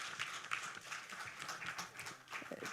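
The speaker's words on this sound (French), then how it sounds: "Veuillez applaudir, s'il vous plaît." A youth council plenary audience claps in a faint, scattered burst, individual hand claps standing out loosely, somewhat distant.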